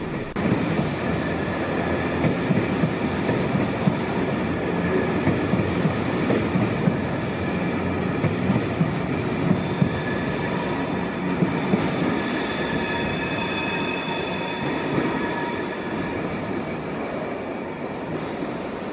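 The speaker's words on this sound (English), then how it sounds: "Blue Peter is hauling the Lakes Express" A steam train hauling passenger carriages rumbles steadily past with continuous wheel and carriage noise, a dense unbroken roar with faint rhythmic clatter throughout.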